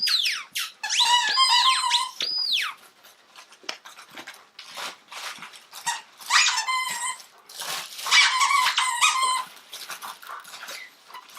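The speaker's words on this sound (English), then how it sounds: "A lot of squeaking happening." Dogs play with squeaky BarkBox toys indoors, producing rapid bursts of high rubbery squeaks with pauses between, mixed with scuffling, light chewing noises and an occasional short growl, all close by.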